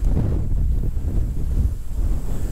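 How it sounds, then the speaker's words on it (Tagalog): Strong wind at a motorcycle campsite in Bulusan, Sorsogon, Philippines buffets the microphone with a constant low roar and gusty rumble, loud and unbroken, no voices present. "Hintayin lang natin magkalma yung hangin, tsaka set up tayo."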